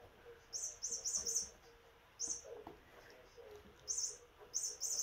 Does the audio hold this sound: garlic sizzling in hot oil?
no